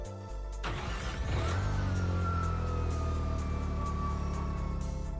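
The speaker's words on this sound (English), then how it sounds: "Oh, we get to hear it rev up now." A sports car engine revs up in the video game Gran Turismo 5, a loud rising roar that settles into a steady hum with a high whine running through it, close and continuous.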